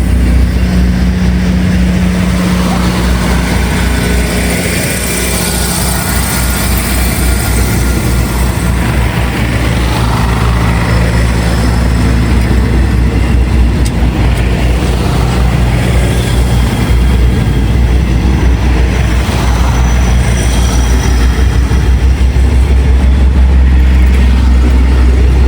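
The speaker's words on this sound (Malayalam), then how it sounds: "ഇതാ ട്രെയിൻ പോവുകയാണ്" A five-carriage train bound for Surat Thani pulls away from a small station in Thailand, a steady low engine rumble and rolling rail noise holding loud and continuous throughout, with no talk.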